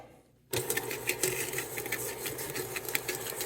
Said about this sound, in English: we're going to turn the mixer on for just a moment